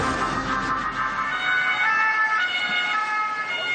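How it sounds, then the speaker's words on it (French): Emergency vehicles converge on an industrial zone in Saint-Quentin-Fallavier with sirens wailing, a loud continuous rising and falling siren over road traffic noise, close and unbroken, with no talk. "des véhicules sirènes hurlantes convergent vers la zone industrielle de Saint-Quentin-Fallavier"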